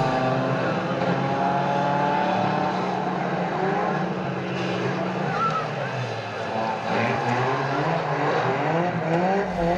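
Unlimited banger racing cars roar around the Kings Lynn track at a Halloween carnival meeting, a loud, continuous blend of revving engines rising and falling, with a commentator talking over the din.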